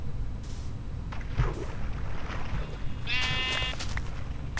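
Sheep bleating in the Minecraft video game, a couple of wavering bleats heard near and clear over a steady background of game ambience.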